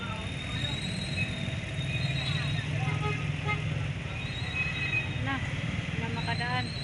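Busy street traffic in Taguig with tricycles rolling past close by, a steady motor rumble under scattered horn toots and squeals, with people talking over it throughout.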